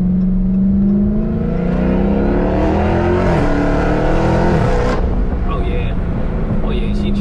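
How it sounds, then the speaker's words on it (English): A 2020 Dodge Charger Hellcat fitted with a Corsa Extreme catback exhaust idles loud and close with a deep rumble, rising in a couple of rev swells before settling, while people talk over it. "the car sounds amazing"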